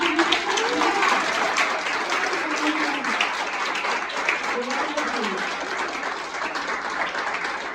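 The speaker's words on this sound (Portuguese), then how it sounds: "Vamos saudar a Jesus, irmãos, que Ele merece essas palmas." A church congregation applauds in steady, dense clapping that fills the whole stretch, with a voice carrying over the top throughout.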